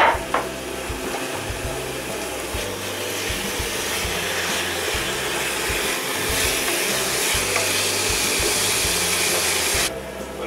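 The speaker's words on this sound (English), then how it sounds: "I'm going to add all of the meat to the pan now" Game meat added to a pan of translucent onions for game soup, giving a steady, broad sizzle and hiss that fills the whole stretch and cuts off near the end.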